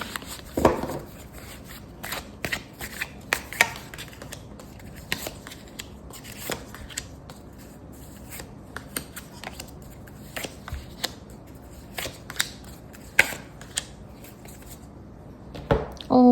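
Tarot cards are shuffled and drawn in a quiet room: crisp riffling bursts and sharp card snaps arrive in irregular clusters, close and clear, across a long stretch.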